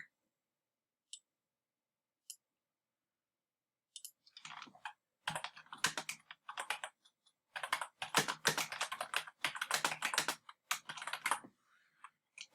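Computer keyboard typing while entering text in an image editor, a few isolated key taps followed by dense, fast bursts of close, crisp clicks with short pauses between runs.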